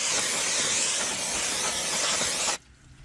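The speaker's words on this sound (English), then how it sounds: "spray old brake cleaner" Brake cleaner sprays onto the brakes of a BMW E30 as a loud, continuous aerosol hiss lasting about two and a half seconds, then cuts off abruptly into quiet.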